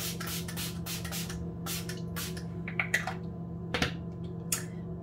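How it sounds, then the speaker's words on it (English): An Elemis Superfood Kefir Tea Mist bottle sprays onto a face in several short, crisp bursts. Some come in quick pairs, set over a low steady background hum. "So next I'm just going to spritz this all over my face."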